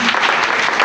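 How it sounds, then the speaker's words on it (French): A church congregation applauding loudly, a dense burst of close clapping from many hands that fills the brief moment. "Acclamez très fort."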